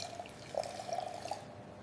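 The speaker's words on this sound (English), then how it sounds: "I'll mix salt into this glass of water." Salt is stirred into a glass of water, giving light liquid swishes and a few soft clinks that run for under two seconds, quiet and close.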